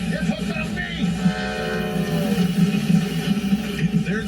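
A train rumbles past with a sustained horn blast and a rolling mechanical clatter, fairly loud and continuous.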